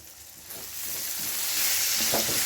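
Onions sizzle in a hot pan for an egg omelet curry, a bright, steady frying hiss that swells gradually louder, with faint stirring scrapes and no talking.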